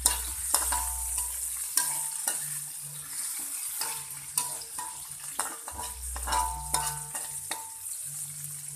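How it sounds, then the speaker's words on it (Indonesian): Steady sizzling of small dried shrimp frying in a wok, with repeated scraping and stirring clatters over a low hum. "Kita goreng juga kresek udang ebinya lebih dulu ya"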